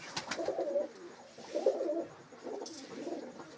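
Pigeons for sale coo in three distinct low, throaty bursts about a second apart, fairly close and clear over a quiet background, with no talking.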